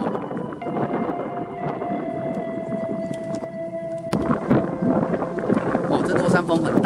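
Strong Luoshan fall wind buffeting a microphone near a suspension bridge in Manzhou, southern Taiwan, a loud continuous roar that surges harder midway, with a steady tone running beneath.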